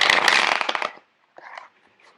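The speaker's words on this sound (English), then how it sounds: "when I shuffle cards out, I'm going to start getting messages" Tarot cards are shuffled up close, a dense, crisp riffle lasting about a second, followed after a short pause by a softer, briefer flutter of cards.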